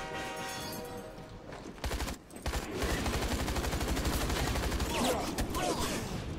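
Rapid bursts of gunfire from the online shooter game Hazard Ops: a dense, sustained stream of shots with a brief lull, then a loud, continuous barrage through the rest of the clip.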